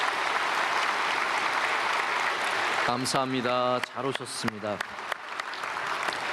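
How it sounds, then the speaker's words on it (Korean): A church congregation claps loudly and steadily at a Sunday worship service, welcoming newcomers; partway through, someone speaks briefly over the continuing applause. "우리 크게 박수로 환영하겠습니다"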